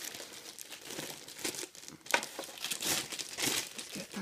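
Cellophane wrapping on a TurboGrafx-16 console crinkles close up in a series of irregular crackling bursts, fairly quiet, with no talking.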